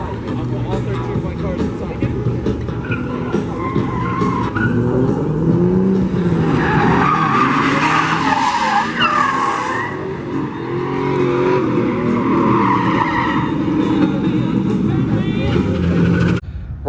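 Tires skid and squeal through a continuous stretch of car drifting on a track, the engine droning underneath with sliding pitch sweeps, loud and steady throughout, with a voice talking over it.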